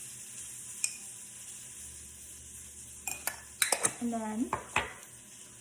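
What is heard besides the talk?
stirring cinnamon and applesauce batter in a bowl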